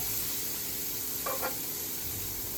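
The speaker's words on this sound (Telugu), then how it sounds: "మనకి ఆనియన్ ఎంతవరకు వేగిందో చూద్దాం" Onions sizzle steadily in a hot pan, a continuous close frying hiss with a brief stir or scrape partway through and no voices.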